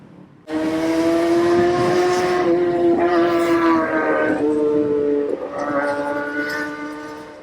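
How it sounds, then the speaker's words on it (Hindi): A motorcycle with a loud exhaust roars for several seconds in Jakarta traffic, a throaty, droning tone that dips in pitch as the engine eases off. "आप इतना लाउड एग्जॉस्ट अपने बाइक में यूज़ करें"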